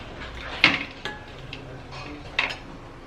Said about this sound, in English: So you continue stirring it this way